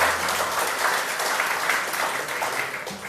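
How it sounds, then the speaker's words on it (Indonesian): Steady crowd applause for Pak Joshua at a talk on the Bible, a dense, continuous wash of many hands clapping at moderate loudness throughout, with no talking over it. "Tepuk tangan untuk Pak Joshua"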